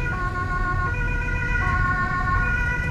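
A Swiss police car's two-tone siren wails steadily during an urban emergency run through Zurich, loud and close over the hum of the moving vehicle.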